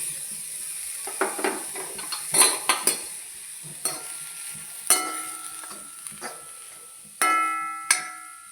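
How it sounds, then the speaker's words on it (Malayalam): Grated coconut dry-roasts in a pan with no oil for a Kerala-style bitter gourd curry, a faint dry crackle under repeated scraping and clinking strokes of a metal spoon against the pan; no one speaks. "എണ്ണയൊന്നും ഒഴിക്കാതെയാണ് ഞാൻ തേങ്ങ വറുത്തെടുക്കുന്നത്"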